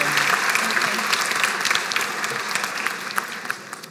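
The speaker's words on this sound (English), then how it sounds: "Round of applause for them," Sustained applause from a graduation ceremony audience honoring medical lab assistant graduates, a dense steady patter of many hands clapping throughout.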